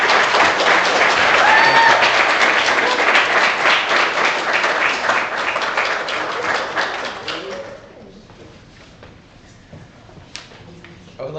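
An audience gives presenters a loud round of applause at a live design-studio event, steady dense clapping that fades away after several seconds into quiet room noise.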